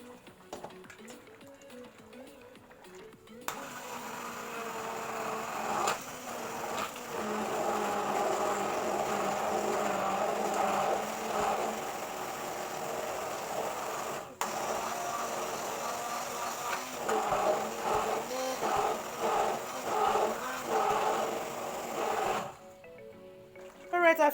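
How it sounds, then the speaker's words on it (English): A kitchen blender purées the juicy cooking liquid from a pot of beef and lentils, its motor whirring steadily for about twenty seconds with a few brief surges before stopping abruptly. "I finished blending it."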